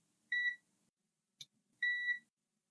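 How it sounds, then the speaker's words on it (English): A faulty humidifier circuit board gives two clear electronic beeps, each about a third of a second long. A brief click sits between them, and the room is otherwise silent. "why is it beeping and then going off?"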